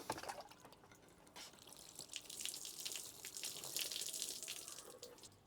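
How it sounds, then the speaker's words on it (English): Water poured over an SW Motech motorcycle drybag, a steady splashing and trickling patter close by that swells toward the end, with no talk. "let's see what's gonna happen when I pour the water over the bag"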